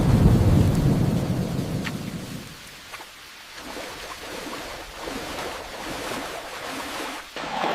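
Heavy rain pours down in the rainforest with deep rolling thunder, loud and booming at first, then fading into a steady rain hiss that stays constant throughout.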